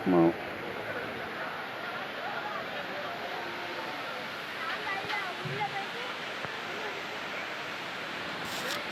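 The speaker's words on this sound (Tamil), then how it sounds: "நம்ம இந்த இடத்துல வந்து அருவியோட சத்தத்தை கேட்கும்போது மனதுக்கு வந்து அவ்வளோ அமைதியாக இருக்குது" The Courtallam waterfall gives off a steady, broadband rush of falling water, a constant roar close by with only small shifts in level, after a brief thump at the start.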